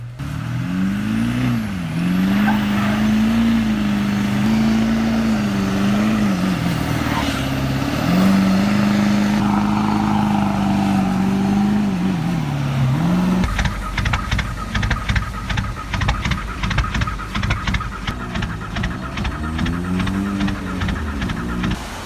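Diesel pickup truck with a 1.9-liter turbo and straight pipe struggling in snow at minus 24 degrees Fahrenheit, a loud droning engine rising and falling, then rapid rough pulsing as it strains and gains traction.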